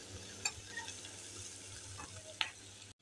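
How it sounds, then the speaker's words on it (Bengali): Prawns and chopped onions frying in a pan for prawn Maggi noodles give a soft, steady sizzle with a couple of sharp clinks from stirring. No one speaks. "প্রন ম্যাগির জন্য পেঁয়াজ আর প্রন ভালোভাবে ভেজে নিচ্ছি"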